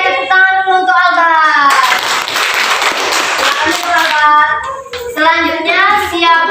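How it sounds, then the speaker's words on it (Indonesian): A classroom of children applauds a student, a burst of clapping in the middle flanked by a voice talking before and after. "tepuk tangan dulu untuk Alba"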